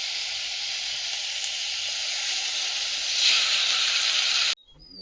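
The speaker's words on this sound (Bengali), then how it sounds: "এবার জল দিয়ে দেবো।" Water poured onto fried spice paste in a pan while cooking bhetki fish curry gives a steady, loud sizzling hiss that swells slightly near the end, then cuts off abruptly.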